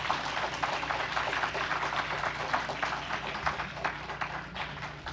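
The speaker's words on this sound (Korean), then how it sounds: "우리 박수로 환영하겠습니다" A church congregation claps steadily to welcome a visiting deacon who has come to teach the children math, dense applause sustained throughout at a fairly loud, even level.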